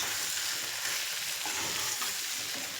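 Chicken fry sizzling on high heat in a pan as it is stirred, a loud continuous crackling hiss with scraping stirs, heard up close and alone.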